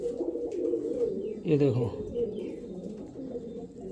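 Pigeons coo in a low, throaty murmur beneath someone talking briefly, with a short chirp rising over the cooing near the middle.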